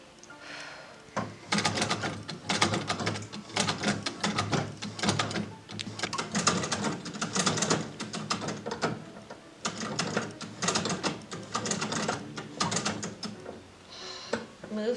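A 1913 Singer treadle sewing machine is pedalled, giving a fast rattling, clattering mechanical rhythm of needle and gears that runs steadily with brief pauses, close and moderately loud with no talk.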